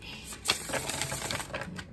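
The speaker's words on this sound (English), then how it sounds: "I don't know why I feel the need to shuffle, but I am" Tarot cards are shuffled in a brisk, papery riffle, with quick flicking taps running steadily close to the microphone.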